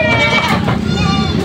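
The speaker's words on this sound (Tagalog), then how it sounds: "Labasan na lang mga kambing na dito." Goats on a farm bleating loudly and close, overlapping wavering cries that fill the clip continuously as the herd is let out.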